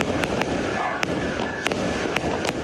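Fireworks on New Year's night give a dense, continuous distant crackle and rumble with sharp pops scattered through it, loud and sustained throughout.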